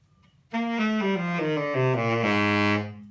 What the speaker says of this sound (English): So a tenor sax is going to sound